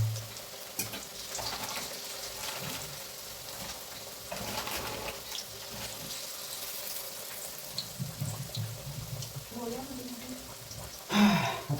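Pieces of chicken 65 frying in hot oil in a home kitchen give off a soft continuous sizzle, with occasional stirring clatters and a brief louder burst near the end.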